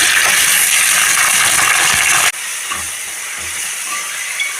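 Mint leaves hit hot oil with browned onions in a pot, a loud close sizzle that cuts abruptly to a quieter, softer frying hiss with faint stirring knocks.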